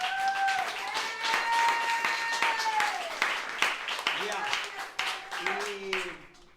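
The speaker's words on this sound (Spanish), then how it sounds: "¿Por qué no nos da un fuerte aplauso al Señor, hermanos?" A church congregation applauds for the Lord during a service, a burst of clapping with sharp individual claps under sustained tonal voices or music that shift pitch throughout.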